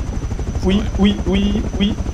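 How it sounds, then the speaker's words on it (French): A helicopter in the video game Rust drones steadily under the players, with rhythmic gunfire-like bursts and one brief spoken word. "On va avoir un problème d'hélicoptère là, non?"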